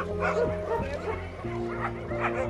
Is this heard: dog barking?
yes